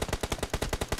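Automatic gunfire in PUBG Mobile rattles off about nine evenly spaced, sharp shots in a fast, steady rhythm, close and fairly loud with no talk.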